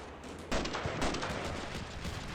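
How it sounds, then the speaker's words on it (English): Scattered rifle shots from a soldier loosing off pot shots at a machine-gun team in the war game Combat Mission Shock Force 2, in sharp bursts amid a dense, noisy battle ambience. "has actually spotted an MG team out there and evidently decided to take some pot shots at them"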